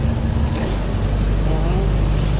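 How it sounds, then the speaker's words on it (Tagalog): Road traffic crawling along in the rain, a steady low rumble of car engines with a continuous wash of noise throughout, fairly close and loud, with no clear gaps. "Traffic na maulan pa."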